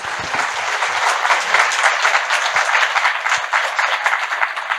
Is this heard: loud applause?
yes